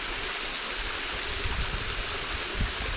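Steady rushing roar of a waterfall at Myuna Pool in Heathcote National Park, broadband and continuous, with louder surges of splashing water close by and no voices.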